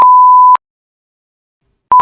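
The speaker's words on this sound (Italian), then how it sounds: "Mi piace questo beep, mi piace." A steady electronic sine-tone beep sounds for about half a second, then cuts to silence before a second beep starts. It is loud and clean, with no voices.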